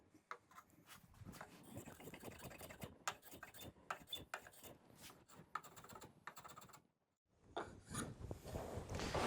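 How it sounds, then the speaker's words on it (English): A block plane chamfers the fingers of a wooden box joint, giving repeated dry rasping strokes in an uneven rhythm, close and fairly loud, with a brief pause before more scraping passes. "I'm going to get a block plane and I'm just going to add a little chamfer around all the fingers"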